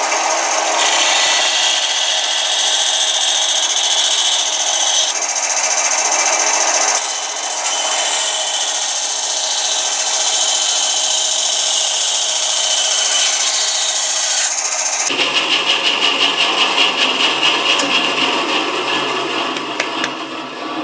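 Loud, continuous power tool rough-cutting a Kydex plastic sheet, a steady high-pitched grinding whine that shifts in tone partway through, with no talking.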